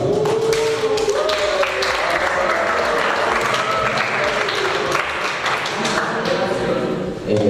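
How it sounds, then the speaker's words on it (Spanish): Students at a minor seminary give a loud, steady round of applause welcoming a speaker, with dense clapping close by, occasional thuds, and voices mixed in beneath. "Recibamos al compañero Samuel Quintero con un aplauso"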